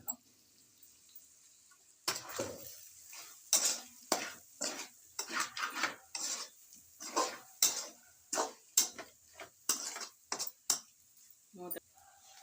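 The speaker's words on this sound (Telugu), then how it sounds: "కొంచెం కొత్తిమీర చల్లేసుకొని ఒక్క నిమిషం అట్లా తిప్పేసుకొని ఆఫ్ చేసేస్తాను." Chicken curry with coriander stirred in a pan, a spoon scraping and clacking in quick irregular strokes over a faint sizzle, close and distinct.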